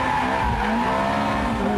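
Ferrari F430 Spyder on a race track, engine at full throttle with tires skidding and squealing, a steady loud roar and screech throughout.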